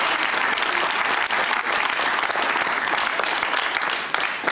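Dense, sustained applause from a studio audience at the Georgian late-night show with Otar Tatishvili fills the whole stretch, loud and even with no pauses.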